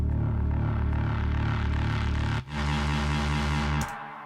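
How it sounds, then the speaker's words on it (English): Reese bass synth built from detuned saw waves with distortion and filtering, a loud, dense, crunchy low drone that holds steady, briefly dips near the middle, then continues with a changed tone until it cuts off near the end. "It's just saw waves detuned with like distortion and filtering"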